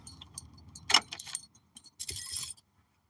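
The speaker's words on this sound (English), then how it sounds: "shut the truck down." Keys jangle sharply in a pickup truck's ignition as the engine is switched off, a few bright metallic rattles in a quiet cab with a faint low hum beneath.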